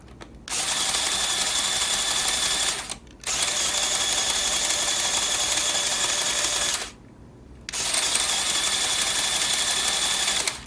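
A LEGO McLaren F1 RC car driven by two L motors whirs in three sustained bursts of high, steady motor whine, separated by brief pauses, loud and close.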